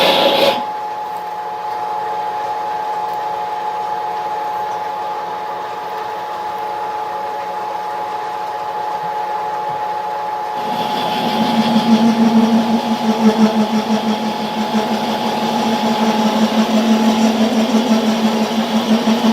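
A 1900s drill press being rebuilt takes a skim cut across metal: a steady motor whine with a tonal hum, growing louder and rougher partway through as the cutter bites, continuous and close.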